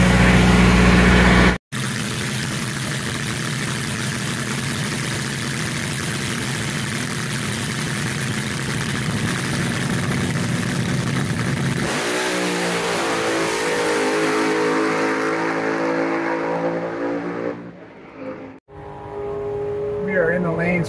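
A top fuel drag car engine at a nostalgia drag race, loud and close, holding a heavy rumbling idle before climbing into a harsher rev, then easing off, with a brief cut near the start and another near the end.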